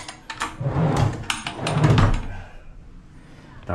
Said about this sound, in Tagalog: ayan, drawer.